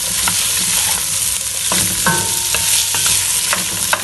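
Diced potatoes sizzle steadily in a hot pan, with scraping stir strokes and small clicks of the spoon against the metal surfacing through the constant frying hiss.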